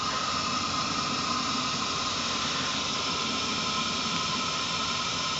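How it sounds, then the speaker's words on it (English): A steady, loud hiss of compressed air driving the blower of a 7.25-inch gauge live steam model locomotive's charcoal fire runs unbroken throughout, with a faint low rumble underneath. "Using compressed air for the blower."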